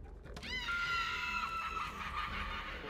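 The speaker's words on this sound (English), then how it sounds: "I love these little things because they scream when you open them." A loot container in the video game Borderlands 3 lets out a loud, sustained, wavering scream as it is opened, a shrill voice-like wail that starts abruptly and holds for over two seconds over background game noise.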